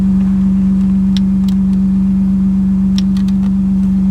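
A BMW E46 M3 idles with a steady, deep exhaust drone as its electric cutout is opened and closed, with only faint clicks riding over the constant rumble.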